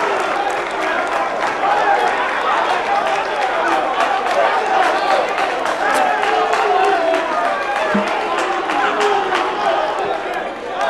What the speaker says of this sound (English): a round of applause, a round of applause to all our contestants